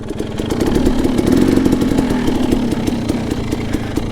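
A Yamaha YZ250FX dirt bike engine running on a rocky mountain trail at a hard enduro event, a loud, steady, close buzzing drone with a rapid pulsing throb and no voices over it.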